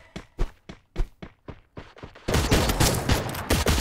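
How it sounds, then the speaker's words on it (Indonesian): Gunfire in the mobile battle royale game Free Fire: a run of about a dozen sharp, evenly spaced single shots, then a sudden loud, dense burst of rapid automatic fire and clatter, with no speech. "Tembakan peringatan sudah diberikan"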